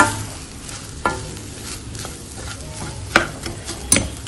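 Potato mixture for bread potato patties being stirred with chaat masala in a pan: soft scraping and faint sizzle throughout, with a few sharper spoon knocks against the pan near the end.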